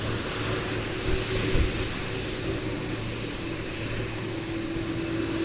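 Airliner engines roar in a steady, broad rumble at Manchester Airport, where a 747 and an Airbus A350 with two engines over the wing are moving, heard at a distance without talk.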